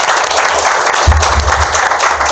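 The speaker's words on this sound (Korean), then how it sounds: "우리 박수 한번 좀 부탁드리겠습니다" Sustained audience applause at a Korean reading talk show, dense and steady throughout, with a brief louder swell partway through.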